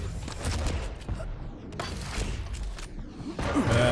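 Shotgun blasts and weapon fire in a fast Quake duel, dense overlapping booms and thuds with game effects, loud and close, plus a brief voice.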